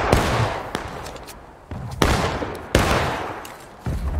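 Musket volleys fired on command in the Civil War game War of Rights: a burst of ragged overlapping shots, then several more loud separate cracks spaced out over a few seconds, with crackling rolls of fire between them.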